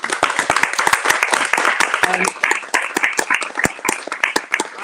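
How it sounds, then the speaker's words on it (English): Crowd clapping steadily in a dense, continuous round of applause, with a brief voice rising briefly in the middle. "So please, a huge round of applause to Mysterious and for Tori."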